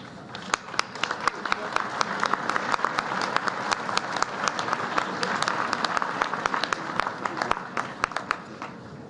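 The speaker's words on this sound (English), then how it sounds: "Let's give them a big round of applause." Big round of applause from the audience at the White House Correspondents' Dinner, steady dense clapping with sharp individual claps standing out, sustained at an even level for about nine seconds with no talk over it.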